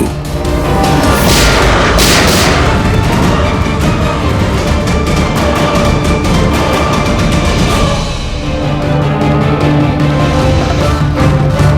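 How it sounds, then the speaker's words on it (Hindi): A shootout in the Hindi TV crime drama CID brings loud, booming gunfire over a heavy rumbling bed, ending in a rapid burst of sharp repeated shots near the end. "एक काम करो पंकज, मुझे कवर करो और फायरिंग करते रहना"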